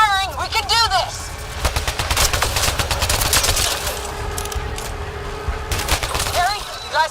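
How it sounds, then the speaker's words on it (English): Rapid gunfire fills a sci-fi firefight in Mass Effect: Andromeda, with dense bursts of shots and warbling alien weapon sounds sweeping through, loud and continuous with brief lulls. "Just keep firing, we can do this!"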